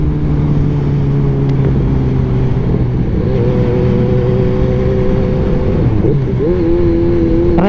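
A Kawasaki Z1000 motorcycle fitted with dual exhaust runs loud and close, a steady engine drone that rises in pitch near the end as the throttle is blipped into a rev.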